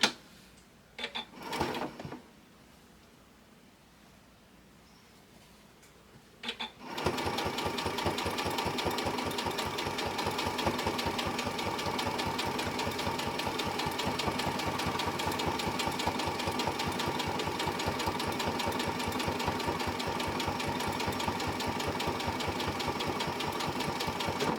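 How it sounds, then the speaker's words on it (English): Sewing machine stitching down a piece of a stained glass quilt wall hanging. After a few faint clicks, the motor starts and runs in a steady, fast, rhythmic chatter for about eighteen seconds. "So let's sew this down."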